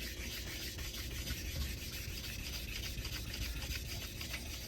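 A vintage straight razor is honed on a coticule stone during bevel setting, a soft continuous rubbing and scraping of blade on stone, close but quiet, with no voices.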